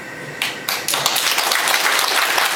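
Audience applause at a clan association chairman's inauguration ceremony, a crowd of many hands clapping steadily and fairly close, building quickly after a few early claps.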